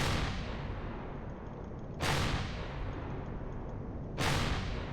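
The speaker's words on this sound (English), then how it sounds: "I know there's something shooting at me" Video-game weapon fire in Empyrion Galactic Survival strikes near the player: three heavy blasts about two seconds apart, each a sharp loud onset that fades into a long rumbling tail.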